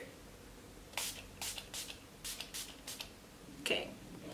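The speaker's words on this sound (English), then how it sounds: "Now I'm gonna set my face with the Milani Make It Last setting spray." Several short, soft spritzes of Milani Make It Last setting spray onto a face come in quick succession, fairly quiet and close, with a faint click near the end.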